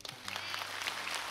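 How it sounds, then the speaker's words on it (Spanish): A church audience at a Saturday night revival gives warm applause for a woman who has come forward: dense, even clapping from a crowd that starts almost at once and holds steady. "Le damos un lindo aplauso a ella"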